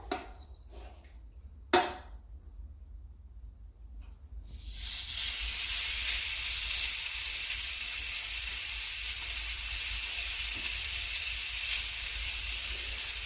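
A steak drops into a smoking-hot pan after a sharp clatter, bursting into a loud, steady sizzle that continues close and unbroken to the end.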